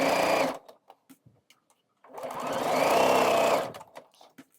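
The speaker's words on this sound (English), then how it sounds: "So let's get the shoulders sewn together first of all." A sewing machine stitches a shoulder seam in quilt fabric, running in two steady, close whirring bursts separated by a pause filled with small clicks and handling sounds.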